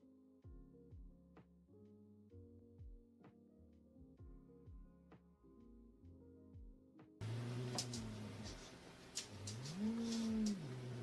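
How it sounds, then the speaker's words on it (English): A cat in a funny cat video meows several times in loud, rising and falling cries over a noisy background. Light, plinking music plays before the meows begin. "let's watch funny cat videos."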